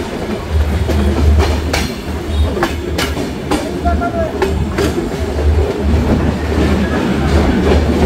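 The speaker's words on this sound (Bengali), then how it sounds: "ট্রেনটি প্রবেশ করছে দর্শনা হল্ট স্টেশনে" The Sagardari Express intercity train pulls into Darshana Halt station, loud rolling rumble with rhythmic clickety-clack of wheels over rail joints and occasional squeals, steady and close throughout.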